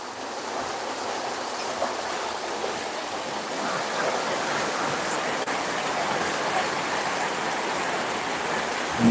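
Heavy rain pours steadily from a spout during a rainy morning, a dense, continuous broadband rush of water that stays loud and even throughout with no speech.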